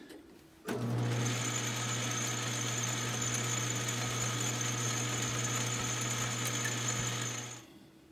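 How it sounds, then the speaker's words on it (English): A power drill fitted with a half-inch fastener bit bores through a rubber hockey puck, a steady, loud motor whine running unbroken for about seven seconds before winding down. "Change over to my half inch fastener bit and we'll go all the way through the puck."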